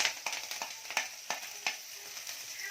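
Chopped green chillies fry in hot oil in a pan for masala paddu, a soft continuous sizzle broken by sharp crackles and spatters, with a few stirring clicks and no voices.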